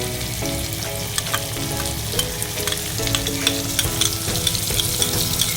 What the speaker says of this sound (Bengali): এবার দিয়ে দিচ্ছি আমি ভিজিয়ে রাখা মশলাটা।